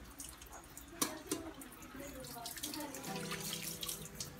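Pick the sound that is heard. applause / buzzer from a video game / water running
water running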